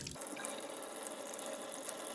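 Water streams steadily from a single-lever bathtub shower faucet at a summer cottage, the cold side opened first, a continuous close hiss of flow with no talking.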